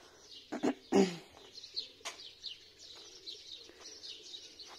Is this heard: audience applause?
no